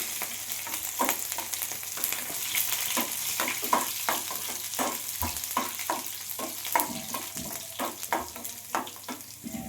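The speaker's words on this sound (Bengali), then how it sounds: "এবার আমি 1 চামচ পাঁচফোড়নটা দিয়ে দিলাম, আদা কুচিটা দিয়ে দিলাম, লঙ্কা কুচিটা দিয়ে দিলাম, দিয়ে একটুখানি নাড়াচাড়া করে নেব" Panch phoron spice mix with chopped ginger and green chili sizzles steadily in hot oil, while a utensil scrapes and stirs the pan in repeated close, rhythmic strokes with no voices.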